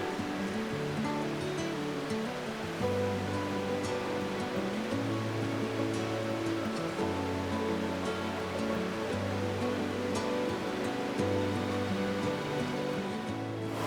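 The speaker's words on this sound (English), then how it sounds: "I think it's the sound of the forest and the river." A river and waterfall flowing through forest in the Yorkshire Dales, a continuous broadband rush of water holding steady throughout, with a low tonal hum layered underneath and no voices.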